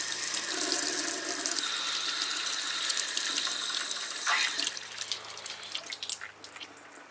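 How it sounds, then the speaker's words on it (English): Water rushes out of a camper's water heater pressure valve in a steady hiss and splash, then tapers into irregular spurts and drips. "Going to release the pressure out of the pressure valve."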